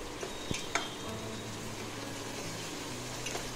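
Mint leaves fry in a pan for vegetable pulao, a steady soft sizzle with a few sharp clicks of stirring early on, close and unaccompanied by voices.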